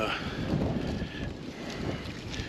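Steady wind buffeting the microphone in low rumbling gusts, fairly quiet, with no clear speech, outdoors on a Kansas deer hunt.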